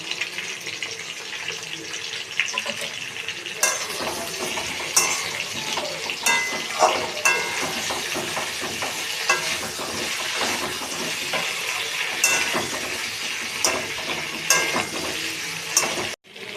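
Pointed gourds cook in a pan with turmeric, sizzling steadily while a utensil stirs and scrapes in repeated bursts, with occasional clinks against the pan.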